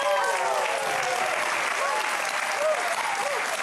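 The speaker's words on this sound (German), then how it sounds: "Ich sage einen großen Applaus für meine dänisch-flensburgerische Prinzessin Lynn Harder." Studio audience on a German TV cooking competition breaks into loud, sustained applause that fills the room evenly, with a few cheers or whistles rising over the dense clapping.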